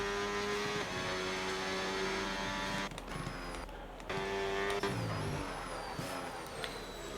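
Race cars on track in a Catalunya sim racing game, a Ferrari among them, with a steady high engine whine that drops out briefly and returns with rising pitch sweeps as cars accelerate.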